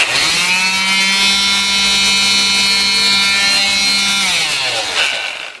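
An old, repaired Black and Decker sander runs with a loud, steady motor whine for several seconds and then spins down near the end, with no talking.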